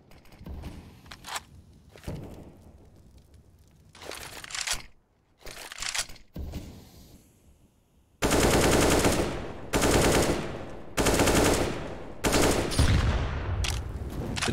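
Rifle fire in CS:GO on the Dust2 map, a few short bursts and then long, loud sprays of automatic fire, heard alone without talk.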